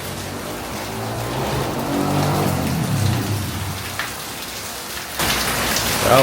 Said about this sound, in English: and it's raining. Made it 2 hours before the rains kicked in.